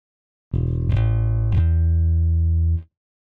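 A single deep virtual electric bass note from Steinberg Electric Bass for HALion that glides, with two quick pitch slides, sustaining smoothly for a couple of seconds before cutting off.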